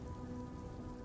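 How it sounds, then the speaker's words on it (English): Rain patters onto surfaces in the visual novel game Blossoms of Eternity, a faint, continuous drizzle of drops with a low steady hum beneath, no speech. "Did it just start to rain out of nowhere?"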